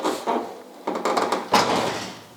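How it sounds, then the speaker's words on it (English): Doors of a 1974 all-wheel-drive Dodge Charger fitted with a modern gas door mod close several times, giving thuds and latch clicks with a slight rattle, close and fairly loud. "Check out how these doors close."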